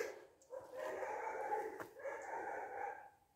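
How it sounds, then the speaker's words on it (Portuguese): A pack of dogs barks nearby in a cluster of overlapping yaps and whimpers, loud and continuous for about three seconds around an outdoor cemetery of European immigrants, with no speech. "Mas tem uma cachorrada ao redor"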